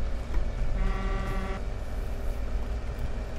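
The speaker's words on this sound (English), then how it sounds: "Sounds like air horns on a semi-truck." A loud semi-truck air horn in the video game Farming Simulator 17 blares with a steady harmonic tone for under a second, over continuous engine rumble and road noise.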